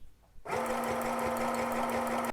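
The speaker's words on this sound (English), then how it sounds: "So I'm gonna keep sewing down the raw edge of the fabric to encase that fraying bit of fabric for a neater finish." A Janome Derby Line sewing machine zigzag stitches down the raw edge of fabric. After a brief pause it starts up into a steady, close, whirring hum with a rapid needle rhythm, and no voices are heard.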